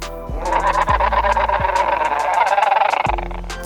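A dinosaur in the Dinosaur Simulator video game gives a call of several short, honking, goose-like cries with falling pitch, loud and close, separated by brief gaps over a continuous ambient tone.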